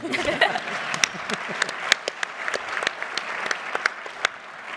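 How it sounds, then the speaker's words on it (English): An audience at an opening ceremony claps steadily, a dense patter of hands with some sharper individual claps standing out and a faint voice or chuckle at the start. "Okay, now you can clap for those."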